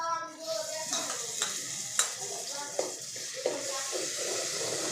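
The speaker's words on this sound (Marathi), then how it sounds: "दोन मिनिटं ह्याला फ्राय करायचं." Tomato puree sizzles and fries in a pan of oil while being stirred for chicken curry, with a steady hiss and occasional sharp spoon clinks against the pan.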